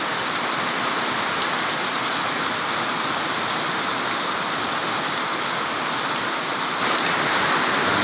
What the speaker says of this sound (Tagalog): Lakas pa yung hangin.